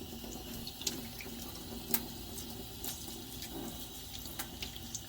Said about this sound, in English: Sometimes it helps if you add a little water and peel it under running water.